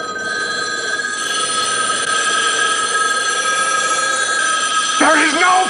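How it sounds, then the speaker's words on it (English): Steady electronic telephone ringing of payphones in downtown Los Angeles fills the air, as if several phones are ringing at once, loud and continuous, with a voice breaking in near the end. "imagines that all the payphones start ringing"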